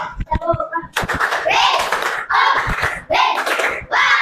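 Children in a classroom clap for a group that has just recited from the Quran, a burst of quick hand claps after a short stretch of voices, then more bursts of clapping in waves.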